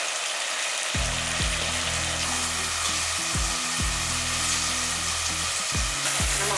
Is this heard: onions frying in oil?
yes